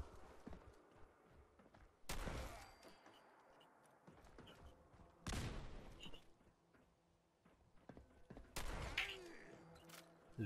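Several booming grenade explosions in Fallout 4 burst at intervals, each followed by rumbling decay, with scattered thumps and faint game noise in between.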